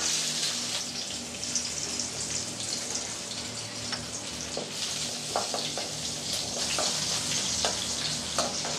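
Steady, close sizzling of chopped garlic frying in hot oil, with a few light clicks of stirring over the constant crackle.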